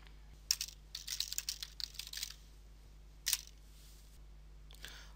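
Computer keyboard typing nearby, bursts of quick clicky keystrokes in an uneven rhythm, a pause, then a final short cluster of taps in a quiet room.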